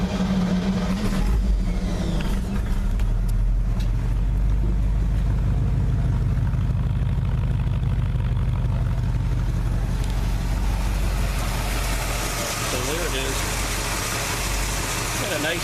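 A 1972 Chevy C10 Stepside long-bed pickup's engine cranks and runs, a steady loud idle throughout with a low rumble, rising near the end; a voice speaks briefly over it.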